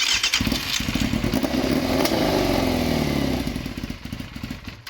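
A Yamaha FZR 600 motorcycle engine cranks and catches, then sputters into a rough, loud running idle nearby.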